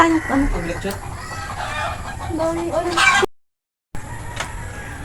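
Chickens cluck repeatedly close by in a lively, uneven run of calls, with a crow-like call among them, then a short cut of silence before more clucking.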